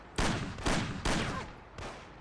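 Police and a sniper open fire in the video game Mafia, four loud separate gunshots in quick succession, each with a short echoing tail.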